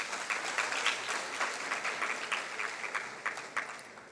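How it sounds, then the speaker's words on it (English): Audience applause at a Mastercard Foundation event, a steady crowd of hands clapping for several seconds with crisp individual claps standing out, gradually tapering off. "give yourselves a round of applause"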